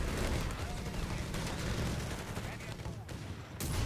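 Mortar blasts and rapid gunfire from the video game Company of Heroes 3, a dense, continuous battle din with a commentator's voice faintly underneath.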